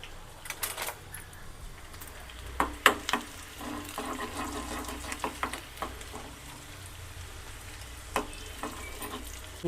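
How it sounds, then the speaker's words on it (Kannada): Garlic fries in hot oil for a smoky eggplant bharta, with a soft continuous sizzle broken by scattered spoon scrapes and taps against the pan. "ಈ ಬೆಳ್ಳುಳ್ಳಿ ಬಂದು ಫುಲ್ಲು ಕಲ್ಲರ್ ಬರಬೇಕು, ಅಲ್ಲಿ ತನಕ ನಾವು ಫ್ರೈ ಮಾಡಬೇಕು"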